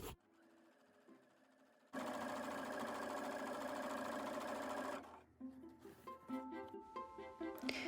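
A sewing machine stitches along the fabric edge of an ironing board cover, humming steadily for about three seconds after a quiet start, then fading into uneven bursts and mechanical clicks.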